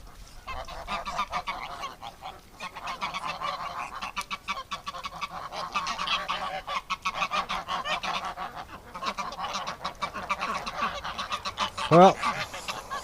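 Geese on a winter duck farm honk in a dense, continuous chorus, loud and close, with one sharper rising honk near the end.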